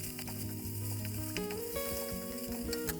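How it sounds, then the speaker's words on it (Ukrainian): Small pieces of chopped meat sizzle and crackle steadily in hot oil in a pot, a soft continuous frying hiss with occasional stirring clinks, no talking. "всипаємо порізане на дрібні шматки м'ясо. Просмажуємо."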